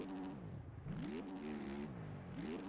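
A 450 motocross bike engine in the video game MX Bikes drones and revs up and down in a steady buzzing whine, climbing in pitch twice through the stretch, with no talking.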